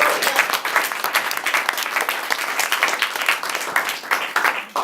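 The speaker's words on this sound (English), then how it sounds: "let's give them a round of applause." An audience at a graduation ceremony claps loudly for the graduating class, a thick, steady burst of many hands with slight swells, close and continuous.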